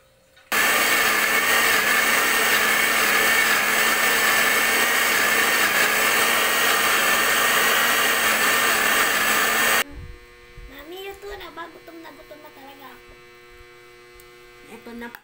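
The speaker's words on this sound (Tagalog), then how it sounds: "I-blender ko lang siya." A kitchen blender whirs loudly and steadily for about nine seconds while blending a drink, then stops abruptly, leaving quieter room sounds and voices talking.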